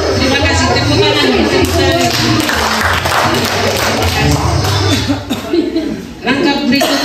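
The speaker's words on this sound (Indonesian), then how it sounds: "tepuk tangan" A crowd at an indoor training event claps in sustained, dense applause, close and loud, mixed with voices and some laughter, dipping briefly near the end.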